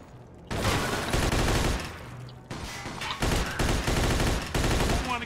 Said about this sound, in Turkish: Biri sıkıyor ama kim sıkıyor onu göremedim.